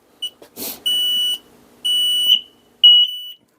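An X-Sense SC07-WX smoke and CO detector sounds its test alarm indoors: a short chirp, then three loud, shrill piercing beeps in a row, up close and alone.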